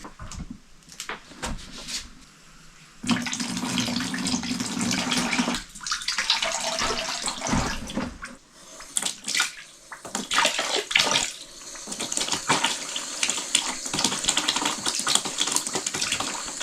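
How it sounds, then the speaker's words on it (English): Hot water taps in an abandoned cottage gush into a bath while the plumbing is purged, a loud broadband rush that stops and restarts several times, with knocks and clatters between bursts. "Right, that's all the hot taps purged."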